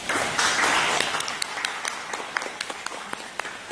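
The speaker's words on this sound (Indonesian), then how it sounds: "Boleh tepuk tangan." Audience at a democracy volunteers' closing ceremony breaks into applause, a dense burst at first that thins into scattered, distinct claps as it fades.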